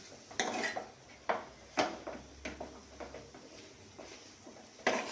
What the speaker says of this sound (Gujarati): હવે એને મિક્સ કરી લઈશું